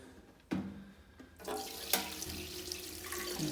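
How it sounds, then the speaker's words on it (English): Hot water runs from a tap into an ultrasonic cleaner tank already loaded with dirty bike cassettes and chains, a steady splashing flow that starts abruptly and builds, close and moderately loud. "So now I'm going to fill it with hot water."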